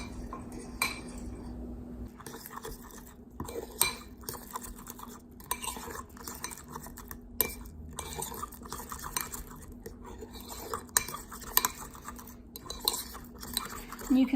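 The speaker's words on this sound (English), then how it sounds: "And then you'll just stir everything together." A spoon stirs a tofu nugget coating mixture with paprika and salt in a bowl, producing soft clinks and scrapes that come in irregular, quiet bursts at close range.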